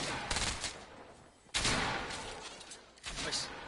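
Rapid bursts of automatic gunfire in Fortnite, three loud fusillades each cutting in sharply and trailing off, close and dominant over a noisy game mix.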